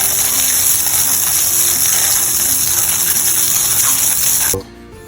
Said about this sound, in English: Give them a quick little hose down to get the rest of the sand off of them.